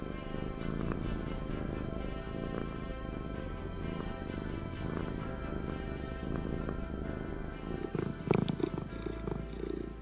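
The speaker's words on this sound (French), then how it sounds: "Le bruit caractéristique du ronronnement provient de la vibration des cordes vocales." A domestic cat purrs steadily and continuously for the full stretch, a low, even rumbling vibration at fairly close range with no talking.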